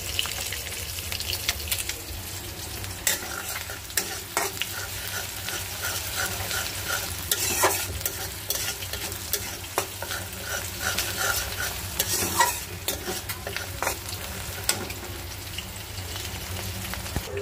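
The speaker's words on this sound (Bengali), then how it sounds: "আমি সবজির জন্য পেঁয়াজ ভেজে নিতেছি" Onions frying in a pan for a vegetable dish, a continuous close sizzle with frequent scraping stirs and clicks of a spatula, no voices.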